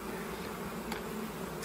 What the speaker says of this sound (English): Despite all the bees flying around, I have to say this is a very docile colony.